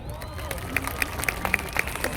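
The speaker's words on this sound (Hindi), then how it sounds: "जोरदार तालियां" Applause at a success meeting in Haldwani, with scattered distinct claps over a low hum and murmuring crowd, moderately loud and fairly thin rather than a full ovation.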